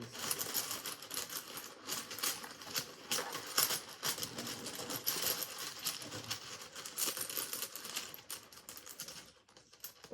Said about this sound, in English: I'm gonna rustle the stones